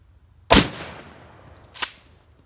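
A shotgun fires one sharp, loud, close blast, and its echo trails off. A second, weaker crack follows a little over a second later. There is no talking.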